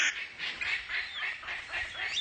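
A palm cockatoo calling in rainforest, a series of harsh, honking squawks repeated in rough rhythm, fairly close and loud with no other sound competing.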